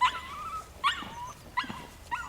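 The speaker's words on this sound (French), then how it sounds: "Alors j'ai mon chien là-bas" A dog being fed apples outdoors in Marcy-l'Étoile, France, gives four short whining yelps with whimpers at an even pace, close and moderately loud.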